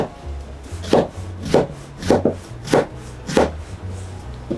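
A knife slices through soft eggplant lengths laid side by side on a cutting board, making about six crisp, evenly spaced chops, each a short thump against the board, heard close up with no talking.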